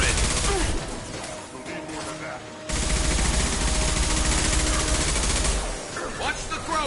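Rapid, dense automatic gunfire rattles through a Mass Effect 2 firefight, loud and sustained across the whole stretch with a brief dip in the middle, while voices talk over the shooting.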